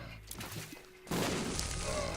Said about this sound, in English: Are you immune to your own explosions and the TNT barrel's explosions?